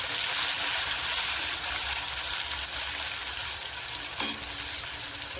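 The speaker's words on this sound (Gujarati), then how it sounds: "લસણને થોડું સાંતળવા દેવાનું" Garlic sautés in hot oil with cumin in a home kitchen, giving a steady, close, crackling sizzle throughout. A single sharp clink of a utensil comes near the end, and no voices are heard.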